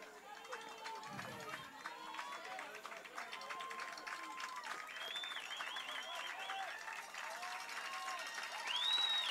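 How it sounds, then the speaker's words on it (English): A college baseball crowd at a stadium during a Southland Conference championship game cheers and claps in a continuous distant roar, with scattered voices, swelling louder toward the end. "McNeese crowd on their feet"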